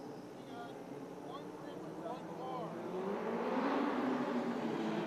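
Race cars roar around the track at the Gambler's Classic in Atlantic City, an engine drone that swells and builds louder toward the end, heard at a moderate distance.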